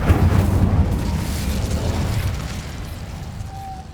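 An Incendio fire spell blast in the video game Hogwarts Legacy erupts as a loud roaring burst that fades into a crackling rumble over a few seconds, with no speech.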